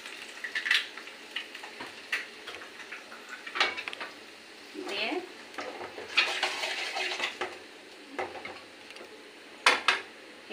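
Eggs cook in a pan while a utensil stirs and scrapes, giving irregular clinks and taps over a faint sizzle, with a brief word spoken.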